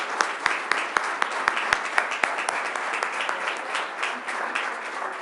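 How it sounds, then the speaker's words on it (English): Audience applause for awardees at a Board of Education business meeting, a sustained room-wide clapping with sharp individual claps standing out throughout, steady and fairly close. "won't everyone give all of our awardees another round of applause?"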